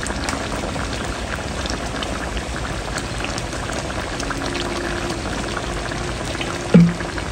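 A pot of marinated chicken in a little water bubbles and simmers steadily throughout, with a soft continuous gurgle and faint crackle, close by, with a small clink near the end.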